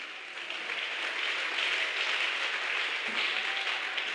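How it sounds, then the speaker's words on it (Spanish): A church congregation applauding during a service, a sustained, even wash of many hands clapping at moderate distance, with no break from start to finish. "Yo creo que ese aplauso es para Dios."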